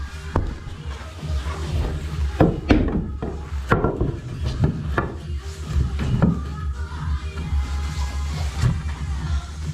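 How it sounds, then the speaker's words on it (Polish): Pocket-hole screws are driven into a pallet-wood frame with a power driver, giving close, loud bursts of whirring and knocking over a steady workshop background. "Wkładamy wkręt."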